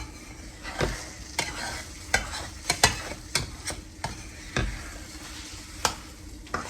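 Scrambled eggs stirred in a hot pan, a spatula scraping and tapping the bottom in an irregular rhythm over a soft steady sizzle, close and fairly quiet, with no voices.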